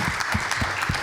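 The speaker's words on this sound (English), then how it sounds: "Let's give a round of applause to the audience and the panelists" Brief clapping from the audience and panelists at an urban mobility panel discussion, a few distinct hand claps in a loose rhythm over about a second, moderately close, with no talking.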